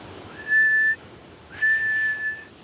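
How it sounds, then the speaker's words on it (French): A person whistles two sustained steady notes, the second longer than the first, clear and fairly close over a soft background hiss. "Là, tu siffles"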